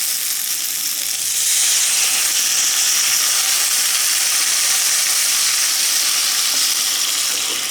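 Stingray masala hissing loudly in a hot pan after water is added, a strong continuous close sizzle with a burst of steam that swells after the first second and stays steady.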